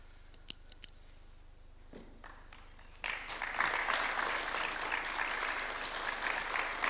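A crowd claps for a signing ceremony on Kenya-Japan development co-operation at State House, Nairobi. After a few seconds of near quiet with a stray tap, a steady, moderately loud round of applause breaks out and carries on.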